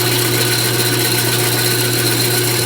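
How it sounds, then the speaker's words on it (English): A power drill whines continuously at a steady high pitch, loud and close, drilling out a wheel stud without pause. "You don't need to push that drill bit through; it'll climb through it."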